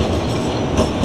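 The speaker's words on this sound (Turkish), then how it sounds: "tramvay da geçiyor arkadaşlar." A tram rumbles through central Sofia, Bulgaria, its steady rolling clatter close and continuous with no voices over it.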